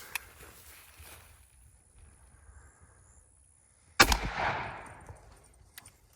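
A single loud blast from a 20 gauge shotgun loaded with #3 buckshot and fitted with an extra full choke, a sharp crack at a 20-yard range followed by a fading outdoor tail after a quiet lead-in.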